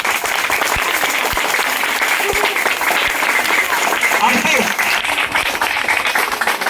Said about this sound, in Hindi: तो छोटे भाई के लिए भी जोरदार तालियां।